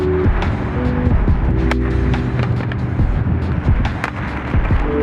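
Inline skates on a Sola aluminum frame slide along an unwaxed outdoor ledge, giving loud, continuous scraping grinds with rolling wheel noise and repeated sharp clacks as the frame lands and catches.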